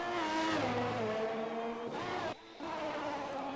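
Race car engine in a racing game, heard from a single car during a tire-warming run at a Canadian circuit: a steady mid-level drone with gear-like pitch steps and a brief dip in level partway through, with no voices.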